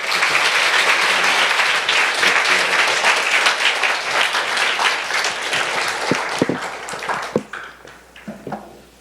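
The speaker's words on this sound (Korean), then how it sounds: "나오실 때 큰 박수로 축복해 주시면 감사하겠습니다" Church congregation applauding as a pastor comes forward at a fasting prayer service, a full, steady round of clapping that thins into scattered individual claps and fades out near the end.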